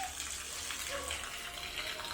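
Sulphur spring water in Bolocboloc, Barili, Cebu, used for washing and showers, flows steadily with a soft, continuous splashing rush that stays even throughout.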